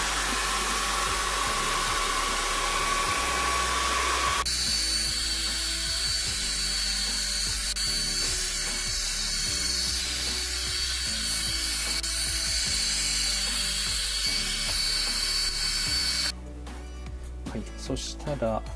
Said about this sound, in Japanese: ちょっとドライヤーで乾かしてしまいます